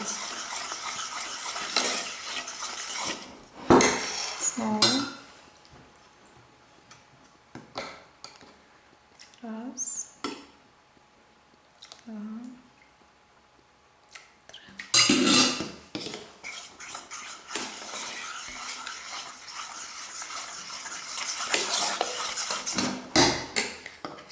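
Utensils scrape and clink against a bowl in bursts of stirring batter for a Napoleon cake, with pauses and occasional soft voice sounds between.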